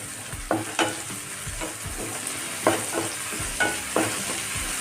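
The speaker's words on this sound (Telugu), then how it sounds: "ఇప్పుడు దీంట్లో పసుపు వేసుకుందాం. కొంచెం పసుపు వేసుకుని కలుపుకోవాలి." Turmeric is stirred into onion masala curry frying in a pan, with a steady sizzle broken by repeated scraping strokes of the spoon, close and fairly loud.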